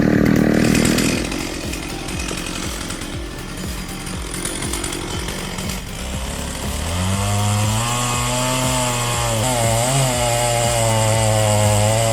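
A chainsaw cuts into a tree during felling, close and loud. The engine snarls with rough, changing revs, then settles into a steady, high, droning whine.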